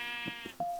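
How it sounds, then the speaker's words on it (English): Sheep on a custom-built field bleat in a short burst of two or three low calls, then one sustained, steady bleat rings out alone near the end. "And now I have to lead up all my sheep again."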